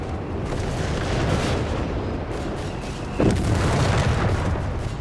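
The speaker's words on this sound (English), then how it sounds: "More artillery there being unleashed" Artillery fire in Company of Heroes 3 with Italian troops and a Churchill tank: a dense, continuous roar of booms and blasts, with one sharp close impact partway through before the rumble carries on.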